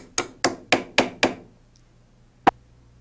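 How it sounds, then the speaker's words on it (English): A plastic hammer drives bolts through holes during helicopter maintenance, striking five evenly spaced, sharp knocks in quick succession, then one more isolated hit after a short pause, close and clear against near silence. "Use a plastic hammer to drive the bolts through the holes."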